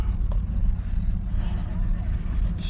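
A 1981 Chevy C20 Scottsdale square-body truck engine idles on its first test drive, a loud, steady low rumble heard up close inside the cab, with faint talk mixed in.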